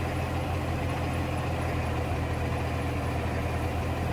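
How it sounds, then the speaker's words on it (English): A heavy engine labouring under load, a steady low drone that holds loud and continuous throughout with no voices over it. "You can hear the engine just struggling down."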